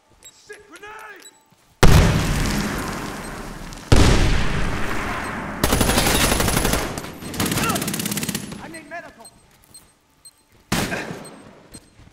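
A loud grenade blast in Medal of Honor Warfighter, in a firefight at Shogore with an HK416C, gives way to long bursts of heavy automatic gunfire that stop and start in several blocks, with quieter radio chatter and voices in between.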